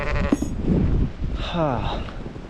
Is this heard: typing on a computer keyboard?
no